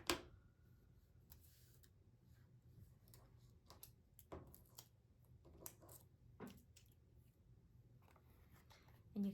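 Quiet scissors snipping pressed flower paper to fit inside a specimen card frame, a series of faint, irregular cuts at close range, with soft handling noises between them.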